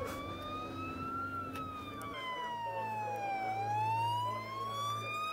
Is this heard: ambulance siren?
yes